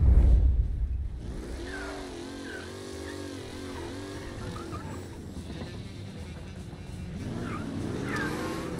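A car engine in Mafia Definitive Edition revs up and down in repeated rising and falling whines, moderately loud, with a low rumble at the start and a fresh surge near the end.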